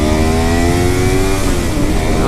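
Kawasaki Ninja 250 motorcycle engine held at full throttle, a loud steady high-revving drone with a rising then settling pitch, close and continuous throughout with no talk.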